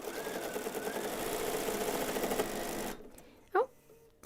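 A sewing machine stitching quilt backing at a standing station, a steady, fast mechanical whir for about three seconds that then stops abruptly, followed by a brief voice and a few faint clicks.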